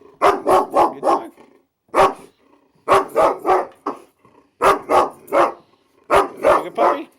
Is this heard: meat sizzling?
no